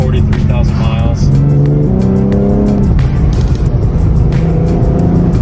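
A 2018 Nissan 370Z with 43,000 miles revs up close and loud, its engine note climbing and dropping as it shifts through several gears, while people talk inside the car.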